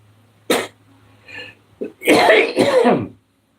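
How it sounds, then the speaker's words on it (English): A sharp cough, a softer throat sound, then a harsher burst of coughing and throat clearing, close and fairly loud. "All of a sudden, I got cough."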